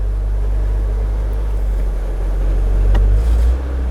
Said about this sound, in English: But I love the way it starts up. I love the exhaust note on it.